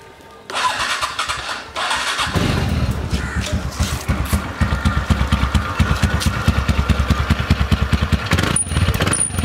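A TVS NTorq scooter engine starts with a brief crank, then settles into a steady, pulsing idle heard up close and loud, running alone for several seconds.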